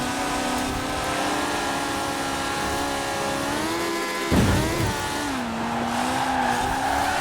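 Honda S800 drifting in Forza Horizon 4, its engine note holding steady then dipping and rising again while tires squeal through a corner, loud and continuous with a brief thump midway.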